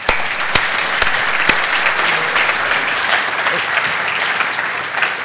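An audience applauds the panellists at the close of a panel session, a steady, loud wash of clapping from many hands that holds evenly throughout, with a few sharper individual claps standing out early on.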